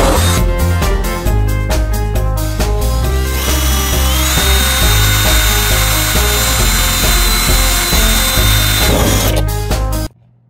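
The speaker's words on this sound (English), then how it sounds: "you're gonna drill through the body of the hood" A power drill whirs loudly up close, drilling through a BMW E46 hood, starting in short bursts and then running in one long steady grind before abruptly stopping.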